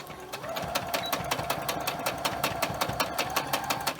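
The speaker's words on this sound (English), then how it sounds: "If you have a sewing machine and you don't want to hand sew, then you can do this to the knitted part of the outside of the glove as well." A sewing machine stitches knitted glove fabric for upcycled mittens, a fast even run of mechanical needle thumps that starts up and holds a steady rhythm, close and alone.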